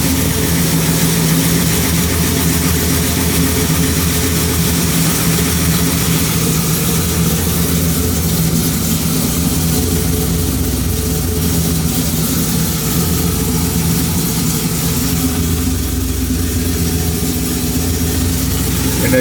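A 1973 Chevy Impala with an aftermarket electronic fuel injection system idles steadily and continuously, a deep, even engine drone heard close and loud with no talking.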